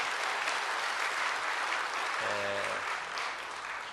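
A church congregation applauds steadily throughout, a dense wash of many hands clapping at moderate distance, with a brief low tonal hum partway through and the clapping thinning slightly near the end.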